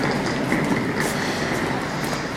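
A train sits at a station in Manchester at night, giving a steady, close rumble of rolling stock and platform noise with no clear pauses.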